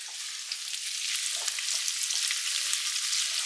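Chicken pieces fry with onion and capsicum for chilli chicken, giving a steady, close sizzling hiss with a few light stirring clicks and no voices.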